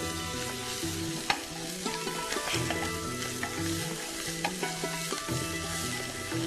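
Coriander and vegetables with ginger and garlic being sautéed and stirred in a pan, a steady sizzle with spoon scrapes and occasional clinks running throughout, no talking.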